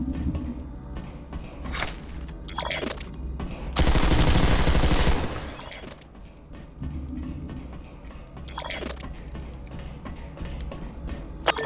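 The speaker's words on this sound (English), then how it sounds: "Take them out using your rocket launcher or light machine gun." Gunfire in the Planetside 2 shooter game, scattered single shots and short bursts with one dense sustained volley in the middle, moderately loud over a low battlefield rumble.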